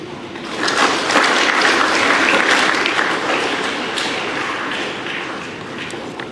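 Big round of applause from the audience at a nursing graduation ceremony at DWU St Benedict Campus in Wewak, loud, steady clapping building after a moment and holding through, slowly easing off.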